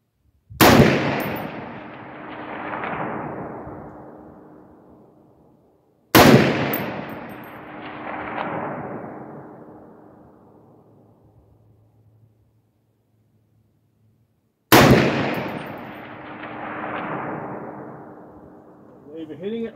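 Three loud .308 rifle shots from a SCAR 17S fired at 25-pound steel targets 550 yards away, each sharp crack rolling into a long echoing decay, spaced several seconds apart with no talking.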